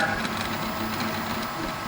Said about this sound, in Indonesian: pada mesin 3D printer ini